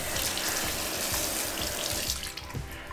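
A bathroom sink faucet runs steadily as hands are washed under it, making a close, continuous splashing rush that eases slightly near the end.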